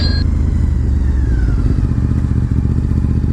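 A Honda RC51 VTR1000 SP2 V-twin sport motorcycle ridden on the road, its liter-class twin engine throbbing in a loud, steady low rumble close to the microphone throughout, with no talking over it.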